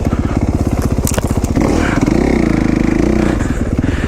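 An off-road motorcycle ridden on an OHV trail, its engine loud and close throughout, rising and falling as the throttle opens, with clattering and scraping from the ground.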